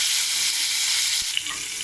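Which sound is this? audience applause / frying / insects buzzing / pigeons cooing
frying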